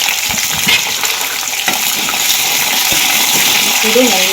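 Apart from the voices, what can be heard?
onions frying in pan for rava upma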